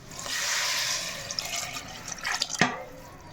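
Tamarind water is poured into a clay pot while dried-fish curry is being made, giving a steady close splashing pour that tapers into drips and ends with a sharp knock of the pot.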